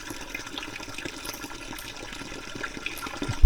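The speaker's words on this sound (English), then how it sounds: "emptying the grey water into a local drain" Grey water with a little washing-up liquid drains from a self-build camper van into a roadside surface water drain, a soft, continuous trickling gush at low volume.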